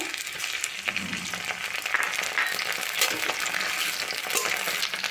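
Ginger-garlic paste sizzles and crackles steadily in hot oil with lightly browned onions while a spoon stirs it, a dense continuous frying sound close up for a fish-head and mung dal dish.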